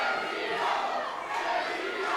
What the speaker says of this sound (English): Crowd chanting for Santino.